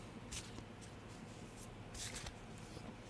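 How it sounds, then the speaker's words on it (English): Playing cards being shuffled during a psychic card reading, soft papery riffles in a few brief bursts, with quiet gaps between them. "Would you like to shuffle the cards for Karen?"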